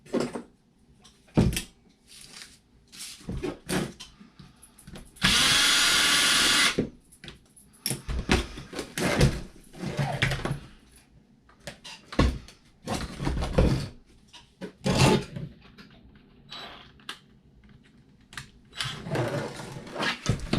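Power tool backing out the top shock bolt on a Traxxas Fiesta rally car, one loud whirring burst of about a second and a half amid scattered clicks and handling knocks of parts and tools.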